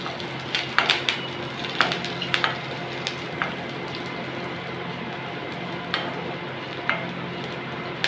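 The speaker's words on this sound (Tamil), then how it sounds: "அப்படியே நெய்யில் வேப்பம்பு பொரிஞ்சிடும்." Neem flowers fry in ghee with a steady sizzle while a utensil scrapes and taps against the pan in irregular bursts.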